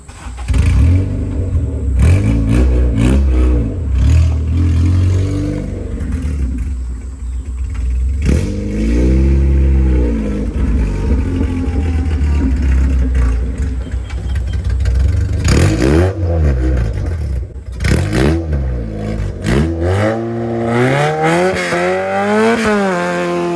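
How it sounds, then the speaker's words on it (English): A budget all-wheel-drive Honda Civic engine revs hard repeatedly, rising and falling in pitch, loud and close, building up before a clutch-dump launch with sharp throttle blips. "Revving it up and sidestepping the clutch"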